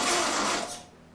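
A Triumph TR4 engine is cranked by its starter motor in one short, loud mechanical whir, close up, dropping away after about a second without catching.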